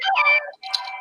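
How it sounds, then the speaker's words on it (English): A cell phone gives off a short electronic noise in two close bursts, warbling tonal chirps separated by a brief silent gap, loud and clear with no talk over it. "I don't know what that noise was and why it came out of my cell phone"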